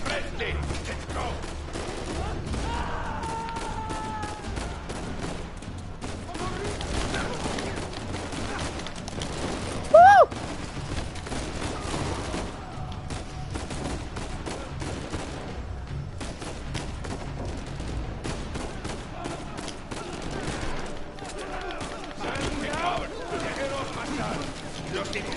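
Rapid gunfire from the video game Uncharted 4 rattles on continuously with sharp bursts, one louder crack standing out midway, while a player talks over the shooting throughout.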